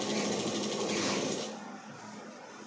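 A sewing machine runs a steady close-up stitching burst while sewing the seam of chudidar pants, softening slightly toward the end as the seam finishes.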